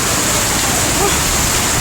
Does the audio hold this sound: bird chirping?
no